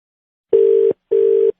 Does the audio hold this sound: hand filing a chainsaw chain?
no